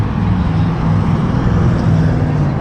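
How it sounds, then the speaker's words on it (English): Heavy road traffic with trucks rumbling through downtown Moab, Utah, a loud continuous low engine roar and road noise heard close by from the street, with no voices. "Trucks just plowing through."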